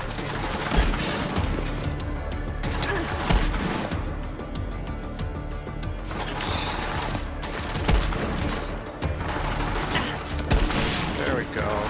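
Rapid gunfire and bursts of automatic weapons from the video game Borderlands 3, a loud, continuous barrage with booms and crashes throughout, while a player talks over the shooting.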